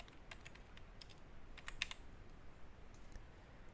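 Quiet typing on a computer keyboard while a password is entered during a WordPress database setup, a steady run of light close key clicks with a small cluster of sharper taps in the middle.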